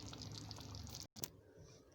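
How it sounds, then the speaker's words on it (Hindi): Water is poured into a pot of simmering Lahori chickpea curry spiced with black pepper and garam masala, a short close splash and trickle that cuts off abruptly, followed by a faint drip and a soft bubbling hiss. "मैं इसमें थोड़ा सा पानी ऐड करूँगी इसको गलने के लिए और मज़ीद।"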